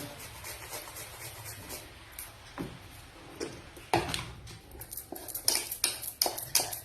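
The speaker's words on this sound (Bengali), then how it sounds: "তো আমি যতক্ষণ ভালো করে ব্যাটারটা ফাটাই" Chocolate cake batter is beaten in a bowl, the utensil clinking and scraping against the sides in irregular taps that grow louder and quicker toward the end.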